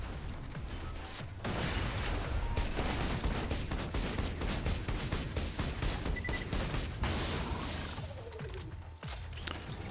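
Rapid automatic gunfire from a Borderlands 2 shooter game crackles in dense, sustained bursts at moderate level, with a brief lull near the start and a short gap near the end.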